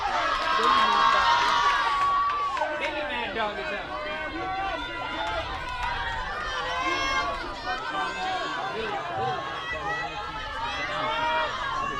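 Crowd noise at a JV softball game between Central Cass and Kindred, steady cheering and chatter from the stands running throughout under continuous play-by-play commentary.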